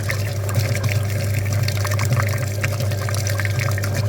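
Water flushes through the clogged heater core radiator of a Daewoo Sens during a cooling-system cleaning, a continuous close gurgling flow over a low steady pump hum with no talk.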